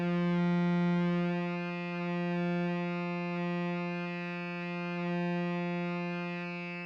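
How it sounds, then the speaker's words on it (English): A sustained, buzzy synthesizer drone in VCV Rack rich in harmonics, gritty and distorted from high resonance and drive, holding one pitch with slight swells in loudness and no voices. "You could get some real distortion in the signal."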